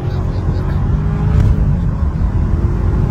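Inside a moving car, the engine drones and revs loudly with a dense low rumble that swells briefly midway, while people talk over it.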